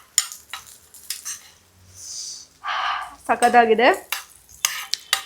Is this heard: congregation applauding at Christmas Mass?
no